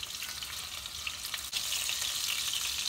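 Meatballs sizzle and crackle steadily in a frying pan as they brown, a continuous close hiss of hot fat with a brief stir partway through.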